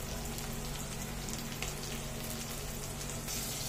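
Onion, tomato, ginger and garlic fry in a pan with a dense, continuous hiss and crackle that stays at an even level throughout. No voices are heard.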